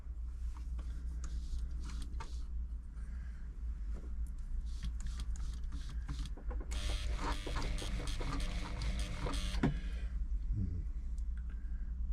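A Bernette b35 sewing machine stitches zigzag on a bench during servicing, a continuous close motor hum with rapid rattling needle clatter that grows busier and louder in the middle, with no voices over it.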